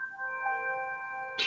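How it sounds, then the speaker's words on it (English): Bells ring out in a sustained metallic chime, several steady tones hanging together for over a second, then a brighter clang strikes near the end; fairly close and alone, no talking. "Damn bells again."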